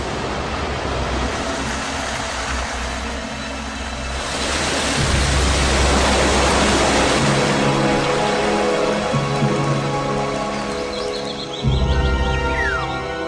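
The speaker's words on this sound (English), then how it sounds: "This is the origin of the rain, which rushes down in countless waterfalls." A dense, continuous hiss of heavy rain pouring down, loud and unbroken, swelling slightly partway through over a low rumble.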